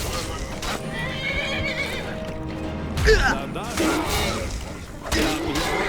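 A horse in the video game Skyrim whinnies several times between hoof clatter, with a loud neigh in the middle and more whinnies after, while battle noises and voices mix in.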